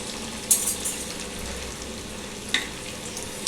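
Sweet potato and potato patties fry in hot oil, giving a steady, close sizzle with crackling throughout and a few sharper pops and clicks. No one speaks.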